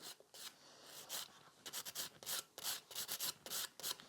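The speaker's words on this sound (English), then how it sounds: "just give it a couple scratches to my natural nail" A two-sided 180/100 grit nail file is scratched over a natural fingernail in a quick series of short, faint rasping strokes, close up and without talk.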